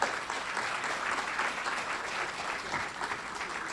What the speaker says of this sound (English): So let's give a round of applause to a dear friend and a great Brooklynite, Darren Bloch.